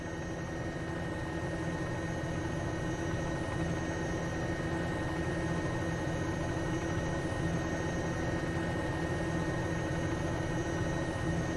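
A Bell 206 helicopter engine in a flight simulator holds a steady turbine drone at stabilized RPM, with constant whine and rotor hum that stays even and fairly loud throughout.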